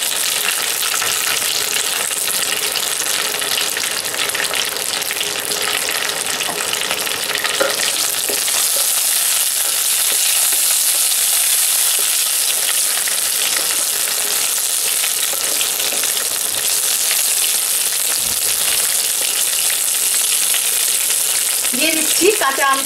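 Tempering spices crackle and sputter in hot oil, a loud, continuous close sizzle that grows brighter and harsher partway through and keeps going for a long stretch.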